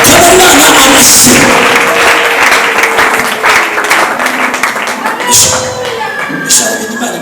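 Congregation applause during a church service, loud close clapping with crowd noise and cheering, swelling and ebbing over several seconds with brief calls rising above it.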